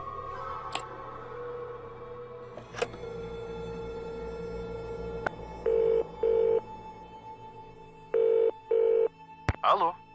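Telephone dialing inside the Nancy Drew game set at Malloy castle: a steady dial tone, then two pairs of evenly spaced DTMF key beeps, clear and close, with a few clicks between them.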